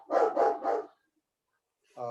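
A dog barks three times in quick succession, close and loud, reacting to a delivery, then falls silent before a voice begins speaking.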